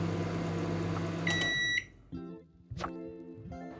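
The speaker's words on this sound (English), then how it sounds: "We're just going to do a quick test to ensure that the microwave works" A motorhome microwave oven hums steadily, then beeps with a short tone as it finishes and stops, followed by the soft clunks of the door and a few more faint beeps, close by with no talking.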